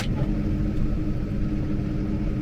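The cab of a New Holland T7 235 tractor fills with a steady, loud low engine drone and rumble while driving, constant throughout with no talking.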